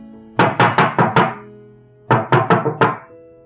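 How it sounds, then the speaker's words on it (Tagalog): Heavy knocking on a door in the early morning hours: two close, loud bursts of about five hard raps each, separated by a short pause, with no voices. "Maya-maya, may kumakatok sa pinto ko."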